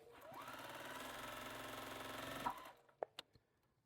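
Sewing machine stitching quilt pieces together, a steady close mechanical whir with rapid needle chatter for about two and a half seconds, then stopping, followed by a few faint clicks.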